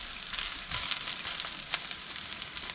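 Corned venison hash browns frying crisp in a hot pan, a close, dense, crackling sizzle running steadily with small pops and no voices.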